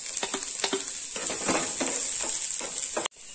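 A small onion roasting in hot oil gives a steady bright sizzle, close and continuous, with a few scraping stirs before a sudden cut near the end.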